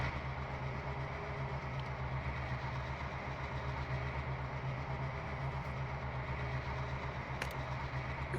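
A train climbing a hill in the Trainz Simulator video game, a steady, loud engine drone and rumble of rolling stock that holds evenly throughout without pauses.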